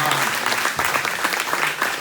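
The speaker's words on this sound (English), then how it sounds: "would you give them a big round of applause, and give yourself a round of applause." Loud, sustained applause from a crowd at a political party candidate forum, dense clapping filling the whole moment with no pauses.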